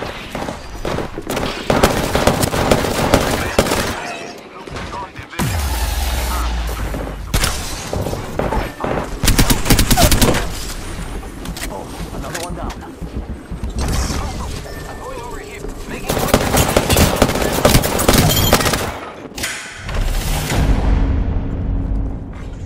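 Gunfire in a video game arena match, with sharp mechanical shots and clattering bursts in several loud stretches separated by brief lulls, mixed with game sounds and occasional voices.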